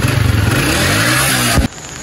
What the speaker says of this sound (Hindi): बाइक वगैरह स्टार्ट है हमारी।